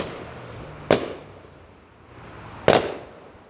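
Two sharp, loud bangs about two seconds apart, fireworks going off at a moderate distance with a faint rumbling background between them.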